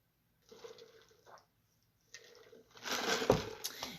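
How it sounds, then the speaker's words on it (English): Someone sipping water: soft, quiet slurps and small liquid sounds come in short bursts, growing a little louder toward the end, with no talking. "And now I'm sipping on water."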